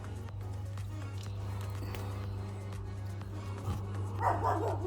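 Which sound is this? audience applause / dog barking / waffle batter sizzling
dog barking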